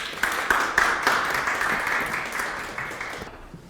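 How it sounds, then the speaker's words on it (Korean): Audience applause in a lecture hall greets a professor arriving for a construction safety class, a dense patter of clapping that starts at full strength and gradually fades out. "그러면 박수로 우리 교수님 모셔보도록 하겠습니다."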